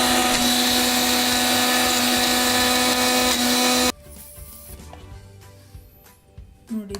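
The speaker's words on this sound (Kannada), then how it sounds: "ಈಗ ಇದನ್ನೆಲ್ಲ ಗ್ರೈಂಡ್ ಮಾಡ್ಕೊಳ್ಳೋದು ಅಷ್ಟೇ" A mixer grinder runs loud and steady, grinding ridge gourd chutney, then cuts off abruptly partway through, leaving quiet kitchen clatter and small knocks.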